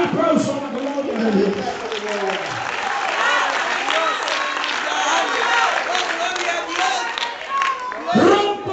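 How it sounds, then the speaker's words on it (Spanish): Church congregation applauding and cheering during a Spanish-language sermon, a loud sustained crowd of clapping mixed with shouts and voices for several seconds, swelling again near the end. "Denle un aplauso a la gloria de"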